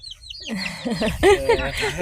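A chicken clucks close by in a short burst of throaty, rising calls over about two seconds, with a faint voice underneath.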